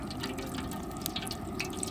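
Water pours steadily into a cooking pot while preparing beef biryani, a continuous close splashing and trickling flow with no talk.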